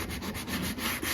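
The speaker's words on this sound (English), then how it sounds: "I'm gonna go in now and get scraping in places" Steady scraping of old finish off a solid ash kitchen hutch, a rhythmic, close rasping of a tool dragged repeatedly across the wood surface.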